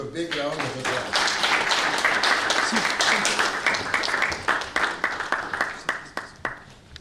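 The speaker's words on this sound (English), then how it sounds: "Give a big round of applause." A seated audience at an event gives a big round of applause, dense and sustained at first, then thinning into scattered individual claps as it dies down.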